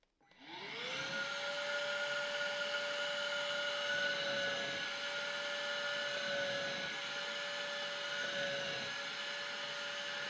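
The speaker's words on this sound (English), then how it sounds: "Let's see if this actually works with the vacuum." A futon vacuum cleaner starts up and runs steadily on a powdered pillow with a high, sustained whine over a loud airy roar, close by.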